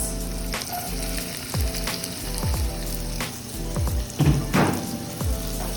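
Garlic and onion sizzling in a frying pan that still holds fried vegetables, for a corned beef caldereta. A close, continuous crackle runs throughout, broken by scattered clicks and knocks of stirring.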